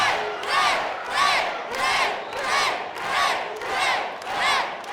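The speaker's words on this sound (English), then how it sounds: "The crowd here, the sold out, standing room only crowd chanting the name of Rey Mysterio." A sold-out, standing-room-only wrestling arena crowd chants in unison, six loud rhythmic swells about one per second, with nothing else heard over them.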